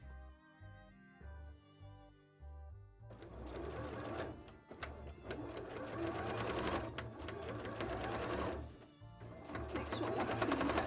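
A sewing machine stitches fabric for a cosplay shoe, running in long bursts with brief pauses between them, the whirring steady and close. A faint hum and tonal background sit underneath.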